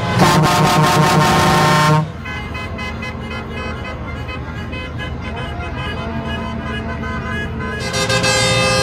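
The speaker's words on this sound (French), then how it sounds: "klaxon" An electric car horn blares in a long, loud, steady honk, then breaks off into low background noise before a second honk starts up near the end.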